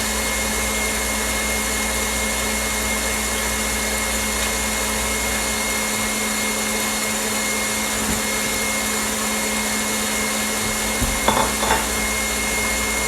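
Electric mixer whipping a thickening chocolate orange cheesecake mixture, a loud steady motor whir running continuously with a few faint knocks near the end.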